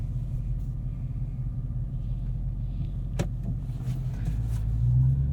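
A 2023 Dodge Charger Hellcat Widebody Jailbreak with an 8-speed automatic gives a steady low engine rumble while driving, loud and close, with a brief click midway and the drone swelling slightly at the end.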